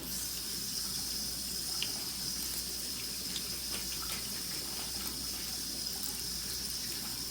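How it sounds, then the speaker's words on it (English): Tap water runs steadily into a sink while a coconut is washed, a faint, continuous hiss and splash with a few soft knocks, no voices. "I'm washing my coconut."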